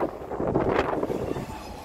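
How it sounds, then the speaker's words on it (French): Wind gusting steadily across a bridge outdoors, a broad, rushing roar that buffets the microphone throughout, swelling briefly in the middle. "il y a du vent aujourd'hui"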